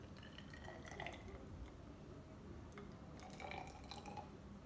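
Water from a tap poured slowly into a measuring cylinder, a soft, quiet trickle and faint dripping with a few brief splashes, continuous and low in level with no voices.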